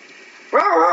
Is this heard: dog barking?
yes